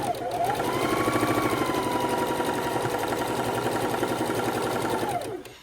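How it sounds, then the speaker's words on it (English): A sewing machine chain-stitches log cabin quilt blocks in one steady, whirring run that speeds up and then slows to a stop, close by, with a little talk in the background. "we're going to chain stitch the row of these till we run out of the color"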